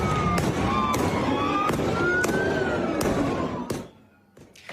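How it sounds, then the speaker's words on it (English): Flashbang grenades going off at a street protest against immigration raids in Los Angeles's fashion district, a series of sharp loud bangs spaced about a second apart over constant crowd and street noise, fading out near the end. "They're flashbangs trying to clear the way for that convoy to go through"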